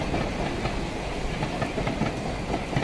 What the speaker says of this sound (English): The train with the landscape sliding by.